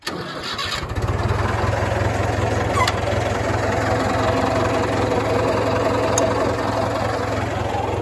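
An old David Brown tractor used for baling hay fires up and settles into a steady, loud idle, a continuous low rumble that runs without break through the rest of the clip.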